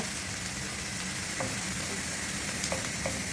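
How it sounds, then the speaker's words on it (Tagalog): Softened onions sizzle loudly and steadily in a pan as tomato is added while cooking Lebanese baby okra with tomato and lamb, with a few light clinks of a utensil and no talk. "pag malambot na yung ating onion, pwede na natin isunod yung tomato"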